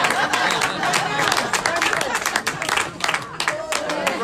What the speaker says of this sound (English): Give me a clap. First clap for the night.